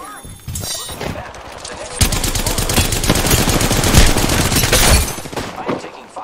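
Sustained bursts of automatic gunfire in the video game Apex Legends, loud and dense for several seconds after a quieter start, with a voice faintly present in the mix.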